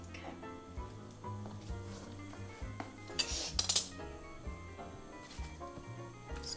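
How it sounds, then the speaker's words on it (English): A utensil stirs a pot of flour-thickened lemon sauce, scraping and clinking against the metal in quick, uneven strokes close by. "Just gonna stir this"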